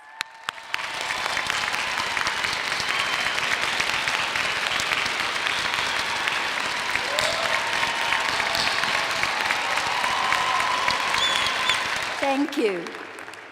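A large audience applauds at a Utah Valley University commencement ceremony in 2019, a dense, steady ovation that swells quickly and holds for over ten seconds before stopping abruptly.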